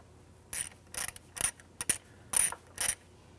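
A ratchet with a 12mm socket turns bolts on a 2007-2013 Acura MDX engine during knock sensor replacement. It makes about eight short, close clicking bursts with brief gaps between them, and no one speaks.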